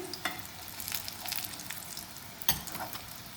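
Eggplant kebabs frying in oil in a home kitchen pan, a soft steady sizzle with occasional small pops and clinks, quiet and close.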